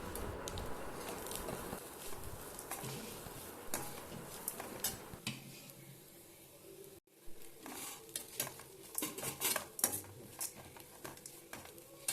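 Grated coconut being stirred in a pan for coconut rice, a spoon scraping and clinking against the metal with soft sizzling, irregular strokes that pause briefly midway then resume more sharply.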